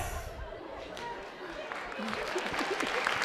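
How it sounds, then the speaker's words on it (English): Audience applause for volunteers at an improv show, a steady wash of clapping from a crowd with some chatter mixed in throughout. "Big round of applause for our volunteers, ladies and gentlemen."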